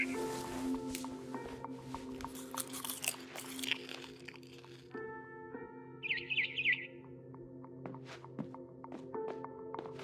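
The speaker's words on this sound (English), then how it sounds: "Then I heard chirping outside my window." A barn swallow chirps outside a window in the video game What Remains of Edith Finch, with short bright tweets cutting through a busy layer of game music and crunchy effects, moderately loud.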